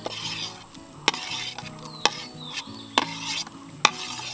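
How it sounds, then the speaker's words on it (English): Tomatoes go into a hot pan for a Manipuri tomato kangsoi, setting off a low sizzle broken by several sharp metallic taps and scrapes from a spatula at fairly regular intervals, close and quiet, with no talking. "Okay, so let's add the tomatoes."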